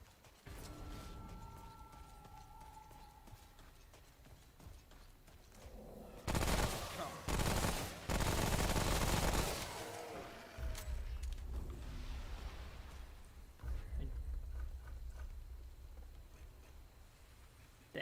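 Rapid submachine gun bursts from a dark fantasy action game, loud dense volleys of automatic fire between about six and ten seconds, with quieter mechanical clatter and game ambience before and after.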